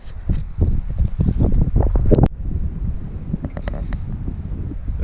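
Wind gusting over a small boat at a sheltered anchorage on the coast between Homer and Kodiak, Alaska: loud buffeting rushes of wind noise in uneven bursts, easing slightly after a strong gust.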